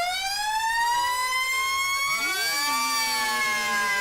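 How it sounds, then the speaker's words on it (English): A fire engine siren wails loudly nearby, its rising and falling tones sweeping and overlapping with doppler-like pitch bends as the truck passes, with no talking. "And there's only one thing that sound can be. Right? The fire engines."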